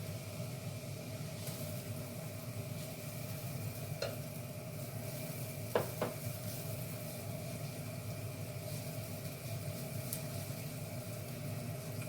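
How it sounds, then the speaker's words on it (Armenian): Chopped onion and grated carrot fry in a pan, making a soft, continuous sizzle with a couple of sharp clicks from stirring partway through. "Մի լավ խառնելուց հետո բերանը ծածկեմ, թող սոխն ու գյազարը տապակվեն։"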